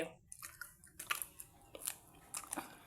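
A cocoa cream-filled wafer is bitten and chewed up close, with sharp crisp crunches scattered over a few seconds between quiet pauses.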